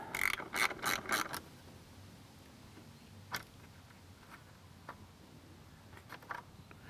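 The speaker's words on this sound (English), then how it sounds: "So get yourself a 10 millimeter wrench and just undo them." A 10 mm ratcheting wrench undoing the headlight housing bolts on a 2019-2020 Toyota RAV4, with a quick burst of close ratchet clicks followed by sparse faint ticks and taps.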